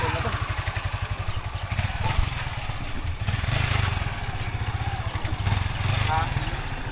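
A motorcycle engine with a rough clutch idles steadily close by, its low pulsing throb continuous throughout while people talk over it.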